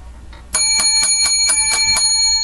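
A bright bicycle-style bell rings in a quick, even series of about seven strikes after a faint first tap, each one loud, close and ringing clearly with no talk over it.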